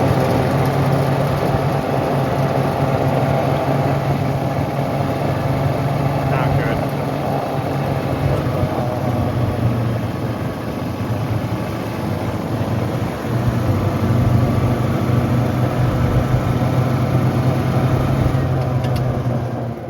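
A damaged track-car engine keeps running after a blow-up, idling with a steady droning hum and a rough low rumble over a long stretch as oil drips out; a voice speaks now and then over it.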